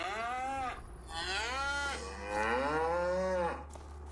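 Two long moos from a Holstein cow in a farming video game on an American map, each drawn-out and wavering, heard clearly at moderate volume over a faint steady low hum.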